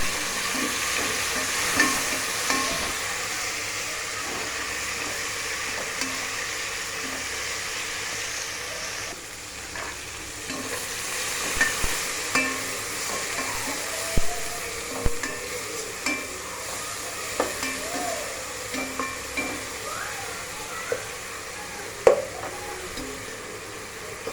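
Onions frying in a pan for mutton biryani, a steady close sizzle running throughout with occasional sharper clinks and scrapes of stirring, no voices.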